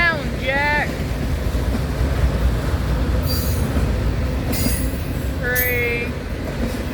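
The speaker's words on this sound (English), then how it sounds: "Autorack train might be slowing down, Jack." BNSF autorack freight train rolling past at Callao, Missouri, a steady loud rumble of railcars with intermittent high wheel squeals and wind buffeting the microphone throughout.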